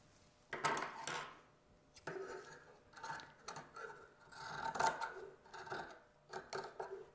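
Scissors cut through interfaced lining fabric for a recycled-fabric belt bag, a series of close, crisp snipping and rasping cuts in irregular bursts. The work is quiet and happens in a calm room.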